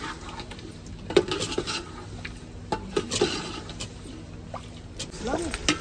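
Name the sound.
stirring potatoes in a cooking pot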